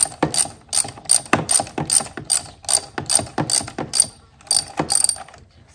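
A ratchet loosens a bolt on a Mercedes-Benz ML350 Bluetec turbocharger, clicking in quick rhythmic bursts of pawl ticks with short pauses between strokes, close and clear.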